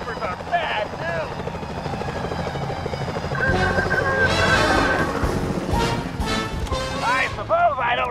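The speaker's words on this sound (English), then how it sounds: "Those security choppers are bad news." A security helicopter in Sly Cooper: Thieves in Time flies overhead with a loud, steady rotor drone, swelling in the middle, under lively game music and character voices talking.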